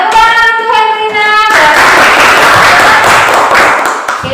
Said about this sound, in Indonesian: tepuk tangan untuk Hebrina